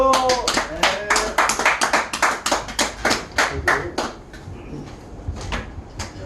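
Audience applause greeting a lecturer at the start of a Korean real-estate investment seminar, a loud burst of many hands clapping that holds for several seconds, then thins and fades toward the end, with some voices mixed in.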